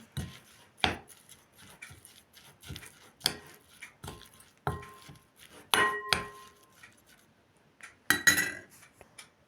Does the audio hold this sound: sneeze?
no